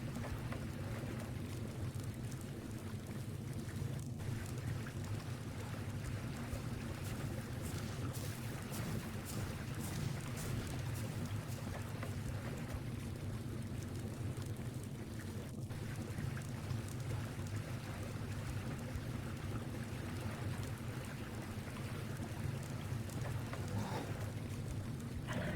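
A sailing boat glides across water in Ark Survival Evolved, a steady, dense wash of splashing and rain-like hiss holding even and fairly loud throughout, with no voices.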